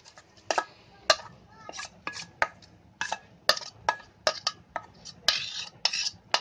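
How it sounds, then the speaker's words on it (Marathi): A spoon stirs chopped vegetables into flour-coated mini prawns in a metal bowl for bhaji, making irregular sharp clinks and scrapes against the bowl with soft mixing sounds in between. "आता ह्याच्यामध्ये आहे ना हे सर्व भाज्या मिक्स केलंय ना, ते ह्याच्यामध्ये मिक्स करून घेते"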